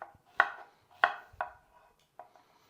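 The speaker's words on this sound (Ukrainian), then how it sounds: "Зараз будемо нарізати огірок." Cucumber being chopped on a cutting board for a Peking cabbage salad: four or five sharp, close knife strikes in an uneven rhythm, the first three loudest, the last ones softer, with no talking.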